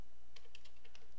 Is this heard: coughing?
no